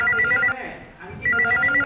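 A telephone rings in two bursts of trilling electronic tones, a short gap between them, close and fairly loud, with people speaking underneath.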